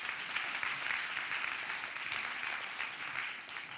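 A university students' Friday church gathering breaks into brief, steady applause, an even wash of many hands clapping at moderate loudness.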